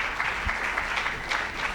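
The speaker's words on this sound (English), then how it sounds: "Let's give a round of applause to our panels." Audience applauding a panel at a youth innovation awards ceremony, a brief, steady round of clapping filling the room.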